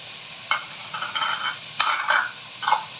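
Vegetables for naem fried rice are stir-fried in a pan, with a soft sizzle under several quick scraping and clattering bursts from the stirring, spaced irregularly and moderately loud, with no talk.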